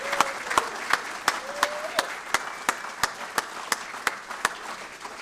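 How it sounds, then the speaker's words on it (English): At a Defense Information School Hall of Fame ceremony, an audience applauds a brass quintet, a broad clapping wash punctuated by sharp, evenly spaced loud claps that ring out nearby in a steady rhythm. "Could we give them a round of applause?"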